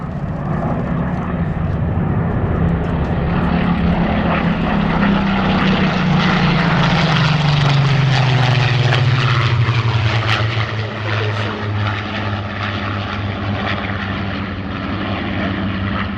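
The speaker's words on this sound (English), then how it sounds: "You'll notice as they come past, the first aircraft is what's called a low-back Spitfire." Spitfire fighters, including a low-back and a high-back variant, pass over an airshow with a loud, steady propeller engine drone whose pitch slowly drops as they go by, with no talk.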